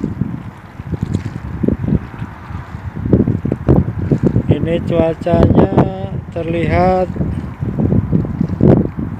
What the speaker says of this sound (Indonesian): angin sepoi-sepoi agak kencang.